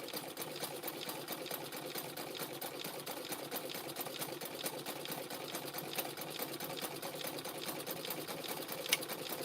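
A sewing machine sewing rope runs steadily with a fast, even mechanical chatter and a rapid clicking rhythm, continuous throughout with no talking.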